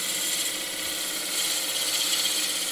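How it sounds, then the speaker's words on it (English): A wood turning gouge cuts around the bottom of a thin-walled piece spinning on a lathe, giving a steady, loud, hissing scrape over the constant whir of the machine, with no talking. "I'm just feeding this gouge around the bottom."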